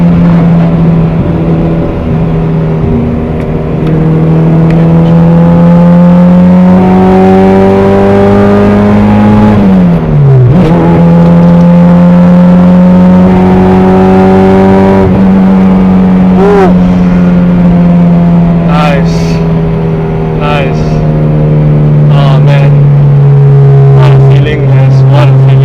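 A loud K24-swapped Honda Civic EK sedan engine climbs in pitch on a public road, drops briefly at a gear change, then pulls hard again, droning steadily up through the revs.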